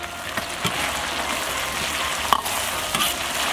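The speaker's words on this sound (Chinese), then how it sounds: "把料头的香味炒出来" Aromatics, soy sauce and a prepared filling stir-fried in a wok while braised beef shank is made, a steady close sizzle with scraping stirs and a few sharp clacks of the utensil against the pan.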